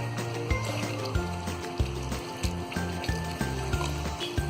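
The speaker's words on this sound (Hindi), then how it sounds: "अब इसमें हम थोड़ा सा पानी और डाल देंगे।" Water is poured into a homemade Schezwan sauce mixture in a cooking pan, giving a steady liquid fill and gurgle. Rhythmic clinks and thumps from the pan recur under it, and no one speaks.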